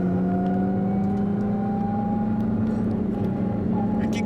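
A 290-horsepower turbo motorbike races an Underground Racing Lamborghini Gallardo at high speed, a steady loud engine drone with a sustained whining tone rising slowly in pitch, heard continuously with faint voices underneath.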